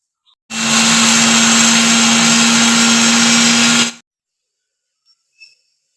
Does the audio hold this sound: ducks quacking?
no